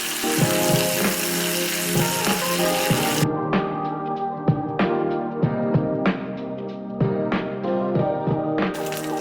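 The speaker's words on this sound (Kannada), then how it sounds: "ಕೊನೆಗೆ ತುಪ್ಪದಲ್ಲಿ ಒಗ್ಗರಣೆ ಹಾಕಿಕೊಳ್ಳಿ." Spices sizzle and crackle in hot ghee as tempering for garlic tambuli, a loud steady frying hiss with scattered pops and occasional stirring clinks.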